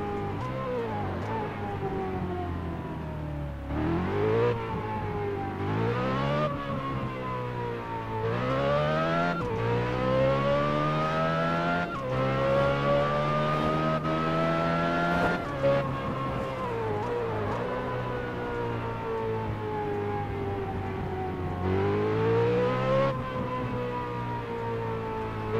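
A Ferrari in the Test Drive Unlimited 2 racing game revs repeatedly, its engine note climbing through the gears and dropping back with each shift, loud and close for nearly half a minute.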